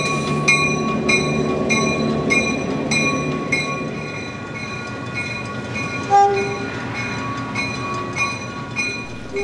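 CF7 diesel locomotives haul a train on the Santa Cruz line, sounding a repeated rhythmic horn over the steady rumble and clatter of rolling cars, with a squeal near the middle.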